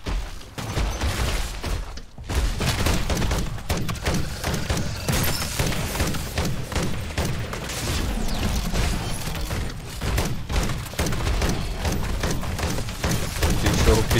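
Rapid, steady gunfire in MW3 Zombies rattles continuously, close and loud, with dense repeated shots and occasional heavier thumps, briefly pausing once before resuming.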